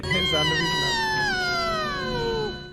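A voice imitates a cat, drawing out one long, whining meow that slowly falls in pitch.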